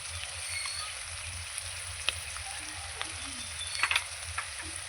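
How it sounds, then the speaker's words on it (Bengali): Chicken sautés in a pan with cumin, coriander, turmeric, salt and garam masala, giving a soft, steady close sizzle broken by a few light clicks and scrapes of stirring. "এবার মাংসের সঙ্গে সব কষিয়ে নেব"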